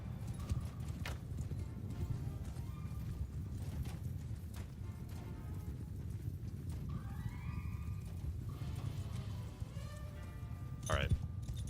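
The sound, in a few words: horses' hooves clip-clopping, from the video game Bannerlord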